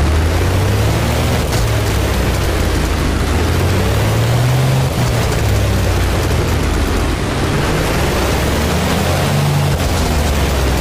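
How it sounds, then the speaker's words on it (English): The piston engine of a warbird in the DCS flight simulator game drones loudly and continuously, a rough rumbling roar whose low pitch slowly rises and falls. "Listen to that engine."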